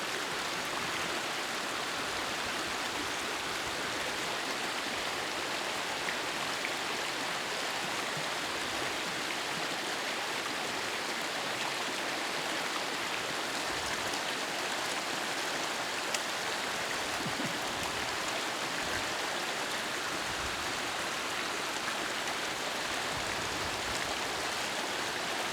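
The River Ryvoan in the Cairngorms rushes along in a steady, broad hiss of flowing water, close and continuous with no voices over it.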